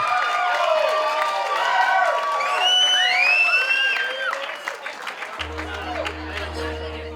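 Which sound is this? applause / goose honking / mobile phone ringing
applause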